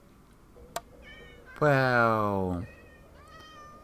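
Two cats riding a boat on a minecart in Minecraft let out one loud, drawn-out meow lasting about a second, with fainter game sounds before and after and a brief spoken word.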